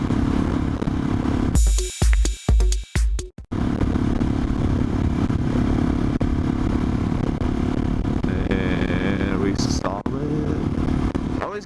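Motorcycle ridden on the way to work, a steady engine drone with wind noise, some clattering bursts early on and a brief high whine later.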